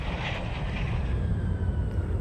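A large airplane's engine roars as the plane taxis past ground workers in the SimAirport airport-management game. The drone is steady and broadband with no speech over it.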